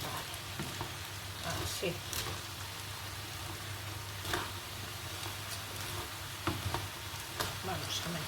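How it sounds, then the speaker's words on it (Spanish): Cod and potatoes sizzle steadily in a frying pan while a utensil stirs and scrapes through them, with a brief spoken word near the start. "vamos a mezclarlo bien"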